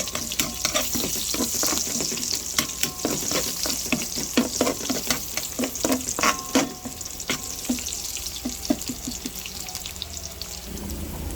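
Ingredients for chicken adobo with potato sauté in a hot pan, a steady sizzle broken by frequent sharp scraping and stirring clicks from a utensil, with nobody speaking.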